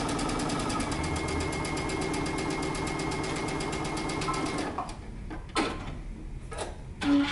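A sewing machine stitches the left side seam of a pants waistband yoke, running in a steady, close mechanical whir for about five seconds before stopping, followed by a few quieter clicks and handling sounds.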